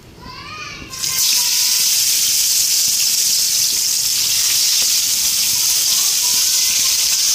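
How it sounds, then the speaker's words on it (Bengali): Eggplant pieces drop into hot oil in a wok, setting off a sudden loud, hissing sizzle that holds steady and close after the first second. "এদিকে কড়াইতে তেল দিয়ে দিলাম এখন বেগুনগুলি একটা একটা করে ভাজা নেই"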